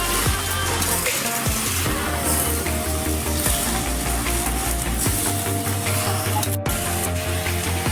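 Munika saag, a leafy green, sizzles and fries in a pan with a steady dense crackle, with occasional stirring scrapes and clinks throughout.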